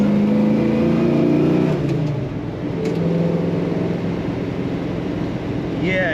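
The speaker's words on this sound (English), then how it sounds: "it is very fun to shift through the gears on this car" A 1967 Chevrolet Chevelle SS V8 pulls hard from inside the cabin, its engine note rising, dropping at a gear change, then climbing again as a steady loud rumble, with a voice briefly heard.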